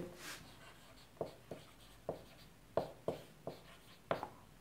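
Someone writes out a straight-line equation during a maths lesson, tapping and stroking in a steady series of short, crisp knocks. The sound is close but fairly soft, and a faint voice comes in briefly at the start.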